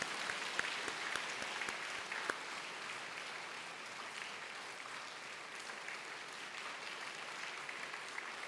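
A church congregation in Daegu applauds during a Sunday service to welcome three newly registering families, a steady, dense clapping that fills the hall with a few sharper claps standing out early on, no talking over it.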